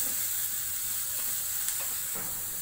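Onions sautéing with salt in a pan for a prawn pepper roast, a steady soft sizzle and hiss with a few faint stirring scrapes, close and continuous, no voices.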